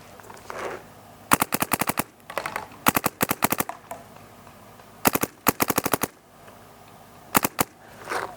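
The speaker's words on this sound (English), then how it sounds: "let's keep shooting and see how this gun is acting on a further distance" Rapid bursts of shots from a DYE DSR paintball marker on an outdoor field, fired at longer range in several quick strings of sharp pops separated by short pauses, loud and close with no talking.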